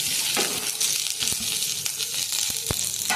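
Fenugreek and mustard seeds sizzle in hot oil with dried chillies and curry leaves for mor kuzhambu, a steady close frying hiss broken by small pops and a few clinks.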